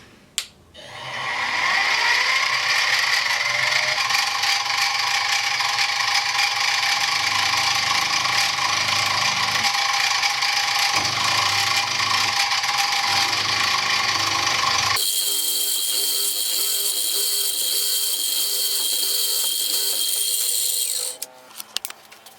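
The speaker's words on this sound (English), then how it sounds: "drilling into a face at an angle is very difficult unless you have a good drill press" A drill press whines loudly and continuously while drilling into a wooden face at an angle for a long stretch, ending abruptly with a brief higher-pitched spin before stopping.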